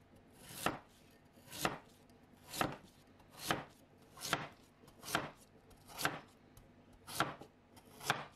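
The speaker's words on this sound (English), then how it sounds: "Peel it and cut it in thin strips." Half a peeled Korean pear being cut into thin strips with a knife, giving eight evenly spaced, crisp chops on a board at roughly one-second intervals in a quiet room.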